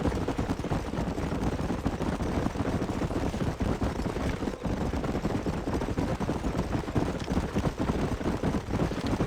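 Horses gallop in the Western video game Red Dead Redemption, a dense, continuous drumming of hooves with rushing wind, steady and loud throughout.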